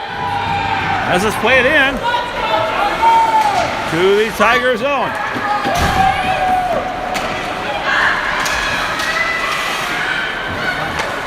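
A raucous, near-sellout crowd roars at a high school hockey game in a Farmington arena, a steady loud din with occasional thumps and slams, while an announcer talks continuously over it.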